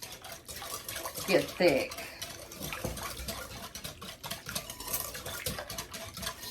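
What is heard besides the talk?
whisking instant vanilla pudding in a bowl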